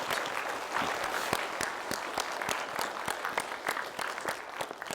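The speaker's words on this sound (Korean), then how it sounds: "박수 부탁드립니다." A crowd at a parenting talk concert claps steadily and evenly throughout, dense and sustained applause filling the room without pause.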